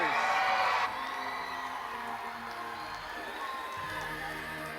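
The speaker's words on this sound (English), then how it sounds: "could I have another loud round of applause for the administrators?" A crowd whoops and cheers loudly at first, then settles into sustained applause and scattered cheering that carries on steadily, at a Teacher Appreciation Day event.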